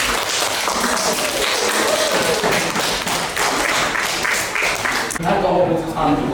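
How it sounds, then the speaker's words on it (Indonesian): A classroom of people claps together in a brisk, fairly close burst of applause after a group presentation, mixed with scattered taps and chatter before it trails off. "Tepuk tangan untuk kelompok."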